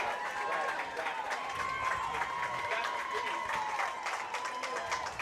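Steady clapping carries over from a neighbouring softball field during a college game, a continuous patter of many hands with a voice talking over it.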